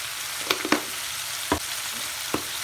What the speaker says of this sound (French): je mélange tranquillement et je laisse cuire